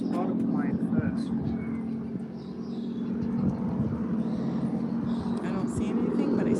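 A low, loud aircraft drone rumbles overhead during a Fourth of July military flyover above a garden, sustained and swelling, with people talking throughout.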